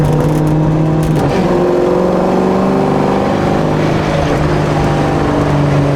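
A collector car's engine drones steadily while driving, its pitch climbing as it accelerates through a gear change, loud and close with a constant cabin rumble and no talk.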